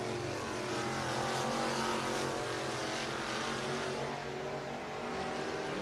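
Race cars lapping I-75 Raceway in Niota, Tennessee, a steady, dense engine roar filling the whole stretch without a break, loud and continuous with no talk.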